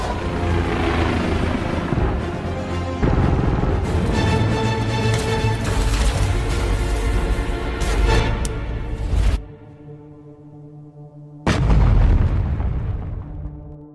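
A film explosion of a factory: a loud, deep blast roars on for several seconds, cuts away briefly, then a second heavy blast bursts in and rumbles as it fades.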